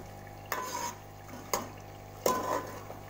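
Mutton and potatoes are fried in a pot and stirred in three distinct scraping strokes, each a brief rustle and sizzle, over a faint steady low hum.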